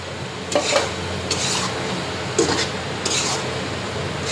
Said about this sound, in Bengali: এই যে এখন দিয়ে দিলাম এগুলি ঝিঙ্গে, এখানে 1 কেজি ঝিঙ্গে।